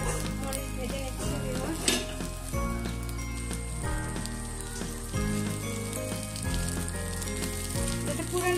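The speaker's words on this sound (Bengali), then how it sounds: "তেলটার মধ্যে আমি এখন সবগুলো রসুন আর পেঁয়াজ মরিচ ভেজে নিচ্ছি" Garlic, onion and chili frying in mustard oil over medium heat, a steady crackling sizzle with light stirring scrapes, close and even in level. Background music with a steady beat plays throughout, and no one speaks.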